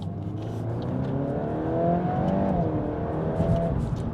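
A 2024 Volkswagen Golf R Black Edition with all-wheel drive accelerates hard from a standstill, its engine rising steadily in pitch through a gear change in a loud, continuous pull heard from inside the car.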